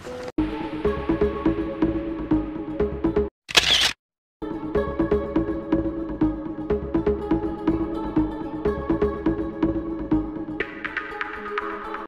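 A single sharp shutter click from a camera taking a photo at ISO 400, f/4.0 and 1/250 s during a portrait shoot with lighting and posing, heard as a brief burst over steady background music.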